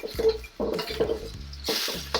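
Hong Kong-style chicken pan-fried noodles sizzle in a hot pan just after being flipped, with a few scraping stirs and utensil clinks breaking into the steady frying hiss.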